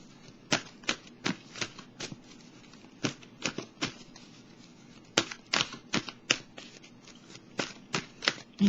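Tarot cards being shuffled in bursts of crisp riffling snaps, close and distinct, with short pauses between runs and no talking.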